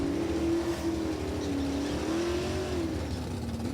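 A Pontiac and a Camaro stock car side by side on a drag strip at National Trail Raceway, their engines a steady, loud drone that rises and sags slightly in pitch over a few seconds, with no voices.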